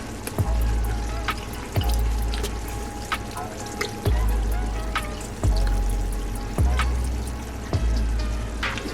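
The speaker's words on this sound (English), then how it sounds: "And then I'm gonna add a little of this Worcestershire sauce." Worcestershire sauce is poured into a marinara sauce with ground beef and smoked sausage, a close liquid pouring and dribbling sound broken by repeated soft thuds as the bottle is shaken.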